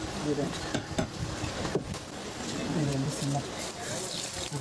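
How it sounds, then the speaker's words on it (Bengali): An egg frying in a little oil in a pan on an electric stove, with a soft, steady sizzle and occasional clinks of a utensil against the pan beneath a person talking. "দেখেন অল্প তেলে ডিম পোস্ট হবে"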